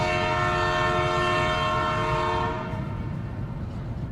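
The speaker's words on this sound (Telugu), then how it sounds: "ఏమంటే 400 కిలోమీటర్ల స్పీడ్కి వెళ్తుంది కదా ట్రైన్" A Beijing–Shanghai high-speed bullet train runs at roughly 340 km/h, heard from onboard as a loud steady tonal whine over deep rumble, the whine dropping away after a few seconds and leaving a broad rushing roar.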